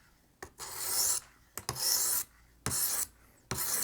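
A knife blade is sharpened on a sharpening system in four rhythmic, gritty rasping strokes, each lasting about half a second, with short quiet gaps between them. The strokes are close and clear, with no speech.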